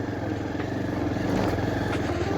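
A motorcycle rides a dusty off-road track between Butwal and Chhahara, its engine droning steadily up close with rattling clatter from the rough ground and no voices.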